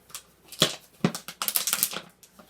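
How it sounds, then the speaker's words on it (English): Scissors snip a piece off an empty plastic water bottle, producing a close series of crisp, crackling cuts and crinkles that bunch together, with brief pauses between. "First thing I'm going to do is just cut that"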